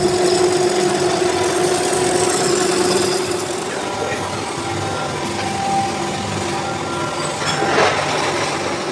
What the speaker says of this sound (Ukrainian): Ось так це виглядає збоку, сам процес токарочки